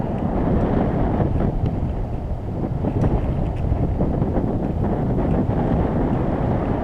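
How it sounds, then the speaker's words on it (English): Wind buffets the microphone along the Kenilworth Trail near East Cedar Lake Beach in summer, a loud, constant low rumble and roar with no break across the whole stretch. "A little bit of wind."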